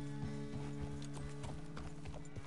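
Horse hooves clip-clopping in Red Dead Redemption 2, a steady rhythmic series of close hoof beats over a constant droning background, with no talking.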